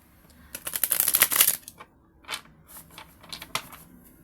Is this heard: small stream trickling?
no